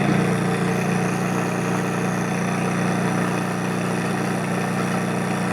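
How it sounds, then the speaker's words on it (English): A Dieter Hellman-built Ernst Haage model motor runs with its variable prop disconnected, giving a steady, loud, continuous drone with a strong low hum that stays even throughout, no voices. "Dieter Hellman made quite a nice engine."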